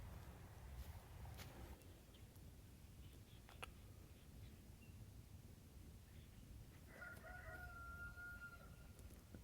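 A rooster crows a couple of times at some distance over steady outdoor background noise and low rumble.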